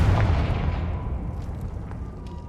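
A Confringo fire spell blast in the Hogwarts Legacy video game, a single heavy booming explosion that starts loud and dies away in a rumbling decay over a couple of seconds.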